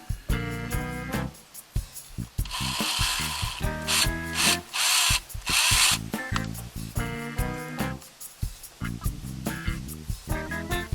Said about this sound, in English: we're going to try drilling the pilot holes for our mounting studs